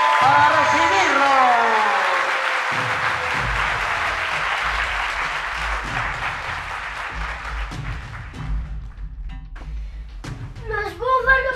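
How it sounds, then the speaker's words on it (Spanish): Applause greets El Búfalo, billed as the world's strongest man, as a steady crowd roar that fills the first several seconds and then thins, with voices talking over it. "Aquí está el aplauso bonito para recibirlo"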